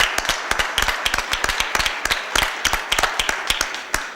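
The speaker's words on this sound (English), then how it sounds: "if we could all give them a round of applause for their 5 years in business" A small group at a city council meeting claps for a local business marking five years, sharp scattered handclaps in a steady patter that stays fairly close and clear, with no talking.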